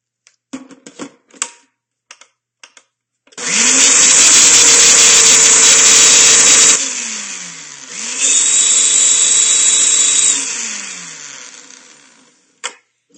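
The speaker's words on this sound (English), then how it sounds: "I'm just going to pop it back on the blender one more time to give it one more little blast of love in the blender" A kitchen blender whirs loudly through a vanilla honey fig lavender smoothie in two sustained bursts separated by a short pause, with clicks and handling sounds around them.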